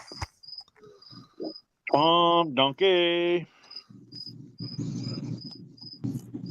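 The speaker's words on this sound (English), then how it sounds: "That damn cricket." A cricket chirps at a rural homestead in the north, giving short, high, evenly spaced chirps that repeat steadily throughout. A person talks loudly in between.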